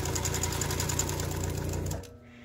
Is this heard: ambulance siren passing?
no